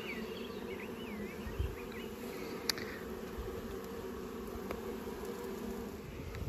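Honey bees from a small nuc split buzz steadily in a dense, continuous hum while being moved frame by frame into a ten-frame deep box, with a few brief knocks and clicks over the constant drone.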